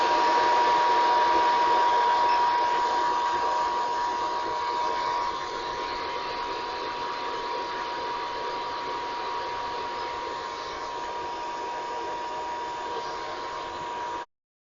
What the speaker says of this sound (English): there goes my electronic load